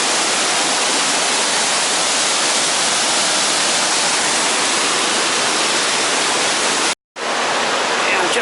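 A waterfall about fifteen feet high beside a footpath near Llanberis produces a loud, steady, broadband rush with no pauses, cutting out for a split second near the end.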